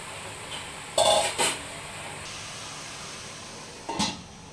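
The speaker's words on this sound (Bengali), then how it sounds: "এরপর আমি একটু ঢাকনা দিয়ে দেবো, সিদ্ধ হওয়ার জন্য।" A lid set on a cooking pot of gatha shak greens, a couple of brief metallic clinks close by, then a faint later clink over a quiet kitchen hum.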